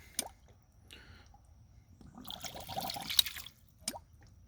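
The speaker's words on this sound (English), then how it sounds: "Every time it clicks, I hear it suck air bubbles back up through the drive pipe." Faint water sounds from a ram pump, sharp clicks and gurgling as it sucks air bubbles back up the drive pipe, a burst of bubbling in the middle, quiet and close.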